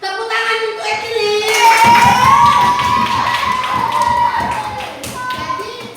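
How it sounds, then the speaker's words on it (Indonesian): A class of fourth-grade students claps for a classmate in a Christian religion lesson. The applause is a dense, steady patter that starts about midway, lasts several seconds and runs under a teacher's voice. "Tepuk tangan untuk Ekili."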